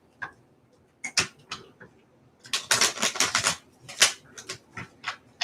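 Keys on a keyboard clatter in short bursts, a few isolated taps followed by a quick, dense run of close, crisp keystrokes, alone with no talk.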